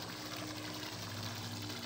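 A water pump runs steadily with a constant mechanical hum and gushing water noise, a continuous near drone with no clear break, just before it is switched off once the water runs low.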